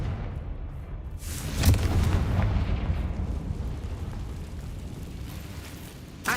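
A Confringo explosive spell going off in Hogwarts Legacy, with a heavy booming blast that swells into a long rumbling roar and fades over several seconds, then a short burst at the end; no voices.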